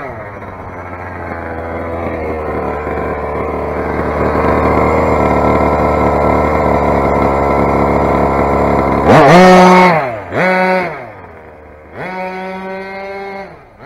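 A Rovan 45cc big-bore petrol engine idles with a buzzy, two-stroke drone, then revs sharply in several quick bursts, each rising and falling, loud and close.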